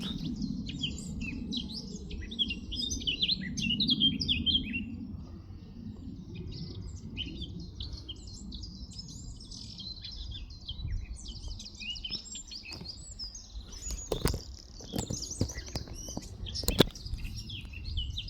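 Wild birds sing outdoors with many high chirps and tweets overlapping from several directions, fairly faint over a soft low rumble, with a few sharper calls near the end.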